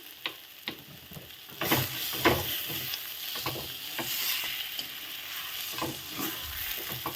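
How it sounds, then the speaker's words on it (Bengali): Fried bori is stirred into a moong curry in a pan, giving a soft continuous sizzle broken by repeated scraping spoon strokes at an uneven rhythm, close up and fairly quiet. "এর মধ্যে দিয়ে দেব ভেজে রাখা বড়িটা দিয়ে একটু ভালো করে নেড়ে নেব"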